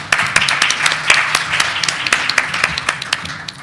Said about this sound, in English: Can I get a round of applause for all of our morning panelists?